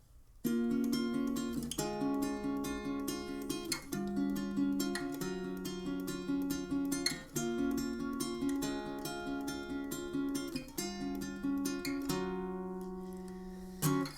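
Acoustic guitar plays a song's repeating hook chord pattern with rhythmic strums and picked notes, close and clear, ending on a ringing chord; no speech.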